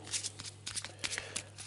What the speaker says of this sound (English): I'll shuffle it again because I'm obviously untrustworthy.